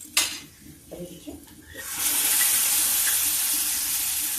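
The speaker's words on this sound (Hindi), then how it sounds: "पानी डाल देते हैं थोड़ा सा" Water poured into a hot cooking pan with browned toor dal and masala: a few soft clatters, then a loud, sustained sizzling hiss that fills the rest of the moment.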